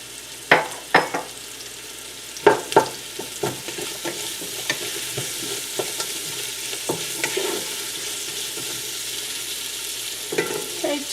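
Garlic dropped into hot olive oil in a pan for Italian chicken and rice, giving a steady soft sizzle with a few sharp clatters and stirring bursts near the start and end.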